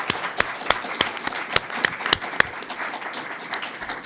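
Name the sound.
audience applause for candidates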